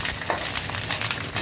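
Curry leaves, ginger, green chillies and lentils frying in tempering oil for semiya pulihora, a brief, steady crackling sizzle at moderate loudness with no voices.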